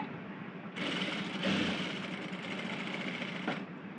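A sewing machine runs in one continuous, even burst lasting about three seconds as it stitches a half-inch hem around a readymade top, whirring close by with no speech.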